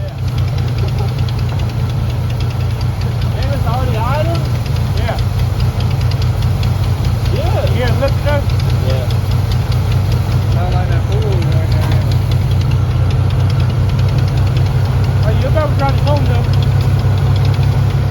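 A Chevrolet El Camino that had sat unused for over five years idles with a loud, steady low rumble and a rapid ticking tap, while people talk nearby over it.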